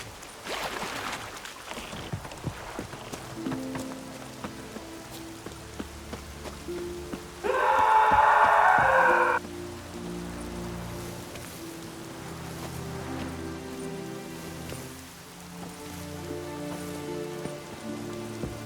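Steady rain patters in The Witcher 3: Wild Hunt over layered background music, with a brief louder burst of rushing noise in the middle.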